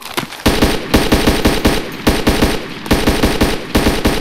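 Rapid automatic gunfire rattles in a video game, a loud, dense burst of evenly spaced shots running nearly continuously, with a brief break in the middle.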